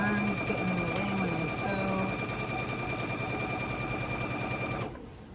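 A sewing machine stitches a Christmas tree table runner with a steady, fast mechanical whir and clatter, running close and continuously before cutting off abruptly near the end.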